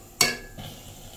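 A sharp metallic clink of a spoon against a pot while stirring hot, steaming cooked meat, one bright strike followed by a softer scrape and quiet shuffling of food.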